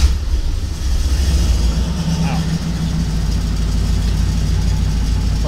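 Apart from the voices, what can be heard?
LS-swapped Ford Bronco II truck engine starting and idling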